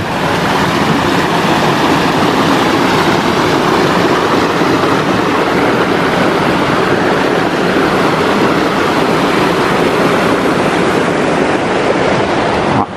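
A mountain stream near a footbridge on an alpine trail rushes steadily, a loud, dense, unbroken wash of flowing water close by with no voices.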